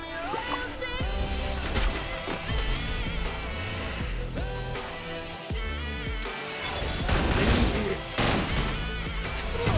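Sniper rifle fire in a video game cracks out amid a dense, loud mix of gunfire bursts, explosions and game effects that runs continuously throughout.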